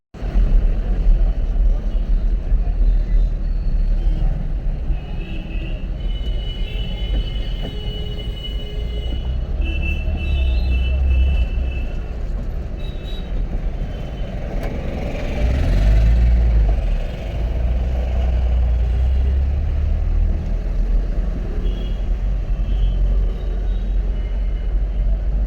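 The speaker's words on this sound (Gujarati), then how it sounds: "સોમવાર છે એટલે સવારે સવારમાં બહુ ટ્રાફિક હોય બધા સિટીમાં" Monday morning city traffic rolls beneath a metro bridge in Nagpur, a continuous loud low rumble of engines and passing vehicles with a heavier vehicle swelling through the middle, no talking.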